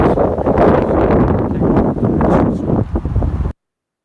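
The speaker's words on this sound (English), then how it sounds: "It was a windy day." Loud, rumbling wind buffets the microphone continuously for a few seconds outdoors at a garden nursery, then cuts off abruptly.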